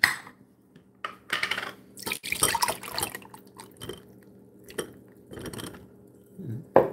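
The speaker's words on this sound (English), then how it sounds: "we're going to also go ahead and pour some cherries in here and let these be draining" Cherries tip into a strainer to drain in a home kitchen while making millionaire pie, giving a few short clattering, splashing bursts with quiet gaps between them.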